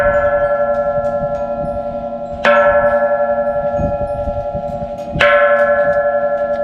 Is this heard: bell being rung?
yes